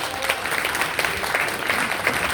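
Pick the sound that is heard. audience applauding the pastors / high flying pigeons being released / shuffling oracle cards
audience applauding the pastors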